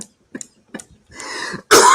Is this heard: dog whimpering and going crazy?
no